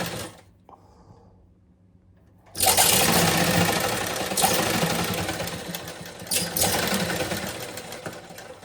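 A sewing machine stitches fabric during a tailoring lesson, starting after a quiet pause and then running loud and steady close by for several seconds with a continuous whirring drone.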